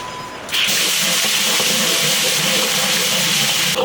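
Finely chopped doubanjiang bean paste hits hot oil in a wok and bursts into a loud, steady hissing sizzle after a quieter start, continuing unbroken with no talk.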